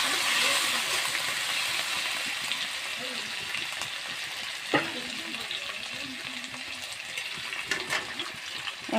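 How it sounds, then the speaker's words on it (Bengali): Potatoes and green chilies fry in oil with browned garlic, giving a steady, soft sizzle with a few faint clinks near the pan. "আলুটা অল্প ভাজা ভাজা হলে আমি শাকটা দিয়ে দেব।"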